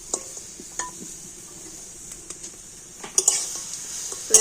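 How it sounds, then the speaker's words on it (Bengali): Grated coconut and date-palm jaggery being stirred in a pan for a pitha filling: quiet scraping with light metallic clinks and a sharper clatter near the end, no speech. "তো এবার একটু এইভাবে নেড়ে চেড়ে সুন্দর একটা পুর তৈরি করে নেব।"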